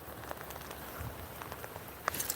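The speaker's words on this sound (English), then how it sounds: "Enjoying the rain?" Steady rain falling outdoors in Washington, a dense even patter with scattered sharper drops, close and continuous, with no voices.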